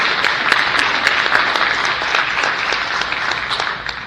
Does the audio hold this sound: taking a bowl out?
no